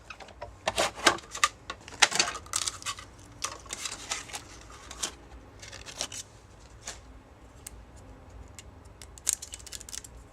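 A die cutting machine runs cardstock through its rollers, producing a busy run of crisp clicks, crackles and rustling handling noises, dense at first and then thinning to scattered taps.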